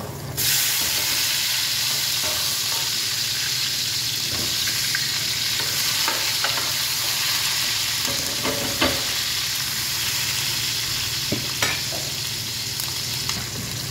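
Garlic and onion sizzle and fry steadily in a pan, a loud continuous crackling hiss with occasional stirring clatter throughout.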